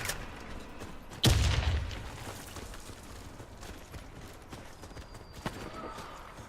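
A single grenade explosion in the shooter game Warface: one sudden low boom that rumbles briefly and dies away into quieter game background noise.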